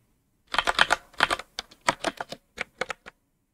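Typing on a computer keyboard while coding, in quick bursts of crisp key clicks separated by short pauses, close and clear.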